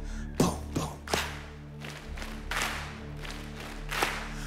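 A church congregation beats out a rhythm of stomps and claps, several sharp hits spaced roughly evenly over a low sustained musical hum, moderately distant with no talking.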